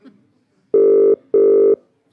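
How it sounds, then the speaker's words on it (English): Two long electronic telephone ringback tones, each nearly half a second, sounding loud and clear in a steady repeating pattern for an outgoing radio call-in, with a faint voice murmur before them. "Got that gut feeling this is a nice ringtone."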